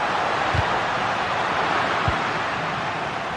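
A football crowd roars in a video game match, a steady, broad wash of distant stadium noise with a couple of faint low thumps and no clear voices.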